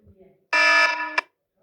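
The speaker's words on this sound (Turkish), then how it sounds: "Alarm." A short electronic iPhone SE 2 alarm tone beeps once, bright and buzzy, cutting off abruptly, followed by another brief start; faint background sounds before it.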